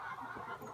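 Chickens clucking around a village yard, a short faint stretch of soft fowl calls against open outdoor ambience, with no talking.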